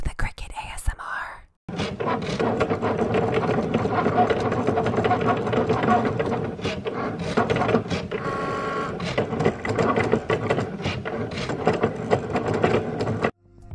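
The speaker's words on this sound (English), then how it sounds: "Cue the Cricut ASMR." Cricut cutting machine slicing metallic vinyl on a cutting mat, a continuous close whirring and scratchy mechanical buzz with shifting carriage movements, starting after a short pause and stopping near the end, no talk.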